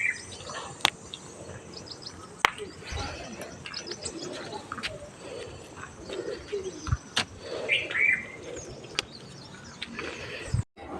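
Birds call outdoors, with soft cooing, scattered chirps and a few sharper calls spread across a quiet background, plus occasional clicks and knocks.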